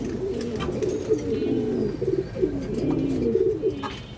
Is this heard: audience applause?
no